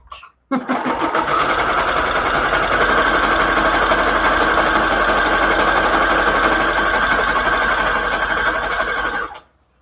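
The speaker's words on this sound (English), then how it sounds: "I'm just gonna zigzag stitch." Sewing machine running a zigzag stitch on a Christmas book page project, a loud, steady mechanical whir and rapid needle chatter lasting about nine seconds before stopping abruptly.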